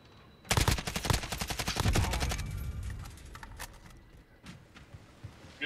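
A fast string of automatic gunshots in a competitive shooter match, loud rapid cracks for about two seconds, then a fading tail and a few scattered quieter shots.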